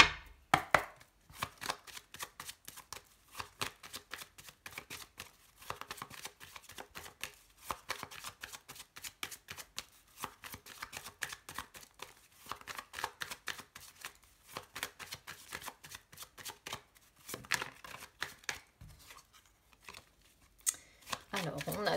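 A deck of tarot cards is shuffled over and over, producing dense rhythmic riffling and snapping bursts with short gaps, close and fairly quiet, with occasional talk.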